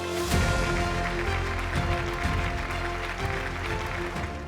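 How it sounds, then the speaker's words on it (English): Applause from an audience at a corporate business awards ceremony, a steady dense clatter of clapping sustained throughout and blended with tonal background music. "With a huge round of applause"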